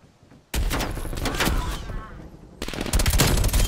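Rapid bursts of assault rifle fire in Call of Duty: Black Ops Cold War, loud and close, two sustained strings of automatic shots separated by a brief lull.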